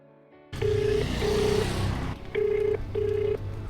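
A phone rings out during a call with four steady electronic tones in two pairs, separated by short gaps, over a low background rumble.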